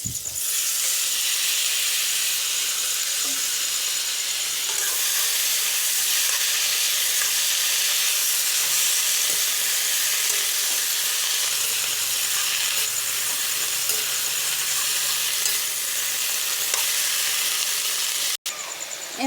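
Fiddlehead fern greens fry in a hot pan, a loud continuous hiss and sizzle that barely changes throughout, ending with a brief cutoff.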